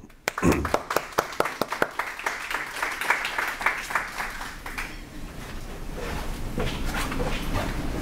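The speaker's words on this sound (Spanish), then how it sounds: "recibamos al doctor Lu con un fuerte aplauso" An audience at a telemedicine presentation gives a speaker a welcoming round of applause, opening with sharp separate claps that merge into a dense, sustained wash of clapping fading toward the end.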